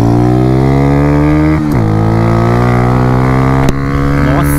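Honda Fan 125 motorcycle accelerating hard in first gear, with a loud close engine whine rising steadily in pitch. It briefly dips at two shifts or backfires and climbs again, while someone talks over it.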